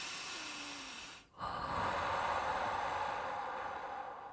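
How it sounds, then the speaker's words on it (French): Slow, deep breathing during a guided meditation: a long airy breath, a brief pause, then a sustained breath out, close to the microphone over a faint steady hiss, with no talking. "Et inspire et expire encore et encore."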